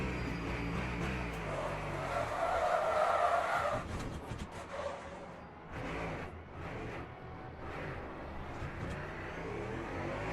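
Race car tyres skid and scrub under heavy braking at Silverstone during a WEC endurance event, a loud sustained roar of tyre noise and engine from onboard with no talk, shifting in intensity across the clip.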